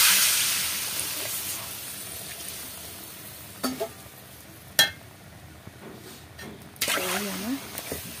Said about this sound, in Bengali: বাঁধাকপিটা কষানো হয়ে গেছে, একটু জল দিয়ে দিই।